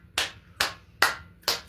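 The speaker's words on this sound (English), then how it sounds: "Let's give it an applause" Four separate hand claps, evenly spaced and close, each a sharp crack with a short decay, from a single person rather than a crowd.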